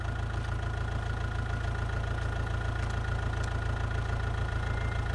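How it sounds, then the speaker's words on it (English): A tractor engine idles in a horror game set near cornfields, giving a steady low, knocking rumble at an even pace that stays constant and fairly close, with no talking over it. "I like that tractor though"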